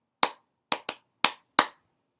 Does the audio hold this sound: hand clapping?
yes